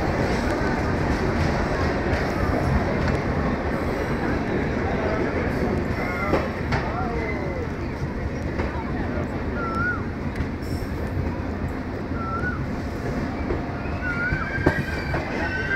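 The 12055 Dehradun Jan Shatabdi Express runs between Delhi and Haridwar, a loud continuous rumble of wheels and carriage rattle from on board, with faint squeals and chirps over the steady roar.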